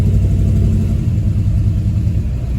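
A 1970 Plymouth Fury III with a big-block 440 engine rumbles along while driving, a loud, close, deep V8 drone with a slight throttle swell, no talking.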